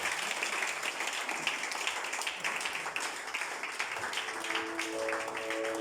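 A church congregation at a French-language service applauds with dense, continuous clapping that stays fairly loud and even, and a faint sustained tone comes in near the end.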